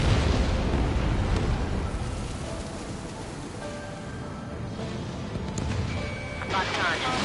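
Missile launch and blast in the combat flight game Ace Combat 7, heard as a dense, continuous roar of explosions and rumbling with faint radio-style voices and tonal beeps layered over it.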